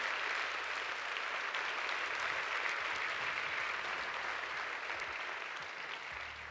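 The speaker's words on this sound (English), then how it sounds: "So I count on you to give them a nice round of applause" Steady round of audience applause for the day's speakers at an AI conference, a dense, even wash of many hands clapping, fairly distant and holding constant before easing slightly at the end.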